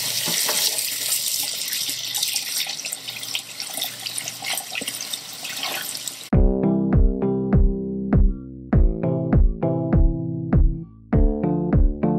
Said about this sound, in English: some farmer's market carrots that are very dirty and very fresh. So, I'm gonna wash them